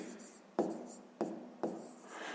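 Pen or pencil writing a decimal number on paper during a fifth-grade maths exercise: three short scratchy bursts of strokes separated by brief pauses, close and fairly quiet, with no voice over them.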